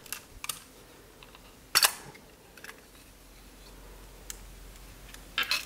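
The back cover of a film SLR camera is opened, giving a few quiet mechanical ticks and then a sharper latch click, with another small snap at the end over near silence.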